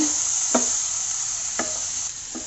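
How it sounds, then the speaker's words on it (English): Chopped tomatoes are stirred into cooked masala in a hot pan for Kerala-style pepper chicken, giving a steady close sizzle with three soft scraping stirs and no voices. "I'm going to add the chopped tomatoes. Mix this well."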